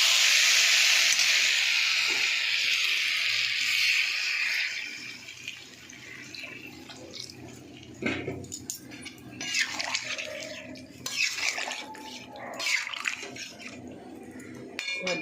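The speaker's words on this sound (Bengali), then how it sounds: "এবার আমি জল ঢেলে দেবো।" Water is poured into a pan of taro curry after the spices have been fried, a loud rushing pour for the first several seconds, then clinks of pan and utensils with bubbling and a little background talk.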